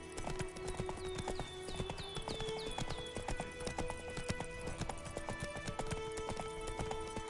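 Steady, fast clip-clop of the horse Roach galloping in The Witcher 3, hooves pounding rhythmically and loudly throughout, with layered game music tones underneath and a brief snort.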